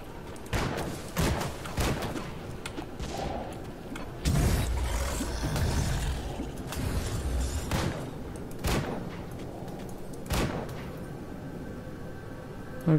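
Shots fired in the action RPG Grim Dawn, a handful of sharp separated bangs spaced across the stretch over a steady bed of game ambience and rumbling effects.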